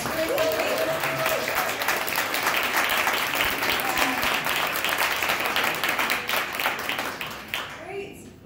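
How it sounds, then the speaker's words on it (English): An audience at a business owners' panel event gives a sustained round of applause, a steady dense clapping that fades out near the end, with some voices mixed in. "So if we could just share a round of applause for that."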